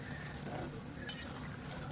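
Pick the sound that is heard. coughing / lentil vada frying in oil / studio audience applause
lentil vada frying in oil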